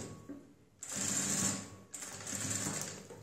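A sewing machine stitches folded cloth for square-neck piping, running in two sustained bursts of steady whirring with a short pause between, close and loud.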